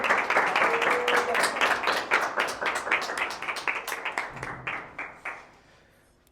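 A church congregation at a Sunday service claps loudly and steadily for Jesus Christ, a dense wash of many hands that tapers off toward the end, with a voice faintly audible underneath.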